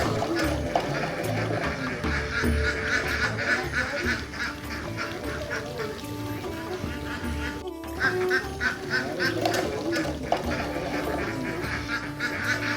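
A flock of farm ducks quacks continuously and close by, overlapping calls rising and falling throughout, with a faint voice in the background.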